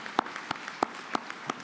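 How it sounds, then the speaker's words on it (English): A handful of sharp, evenly spaced claps, about six in under two seconds, ring out in a convention hall at the official opening of the 2023 SUMA Convention, thanking the staff for organizing the event. "Let's give them a huge round of applause for all the work organizing this."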